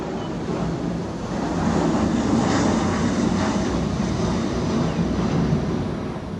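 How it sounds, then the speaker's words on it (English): An airplane flies over a house with a broad, steady roar that swells and holds loudly before easing slightly, with no speech. "Sorry, it's a plane."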